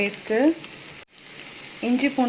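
Vegetables sautéing with ginger garlic paste in a pan for egg noodles, a steady soft sizzle running beneath a woman's speech, with a brief drop to silence midway.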